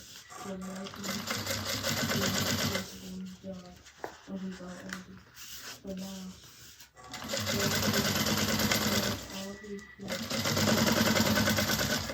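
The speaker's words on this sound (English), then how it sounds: "So I'm just going to fold the seam allowance down and I'm going to top stitch." A sewing machine top stitches a folded seam allowance on a bag, running in loud, steady whirring bursts with brief stops and restarts in between.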